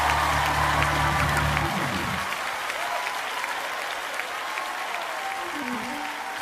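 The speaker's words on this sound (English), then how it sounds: "Come on, clap your hands." A church congregation claps and cheers steadily throughout, a dense, loud wash of applause that continues unbroken, with a low musical hum fading out early on.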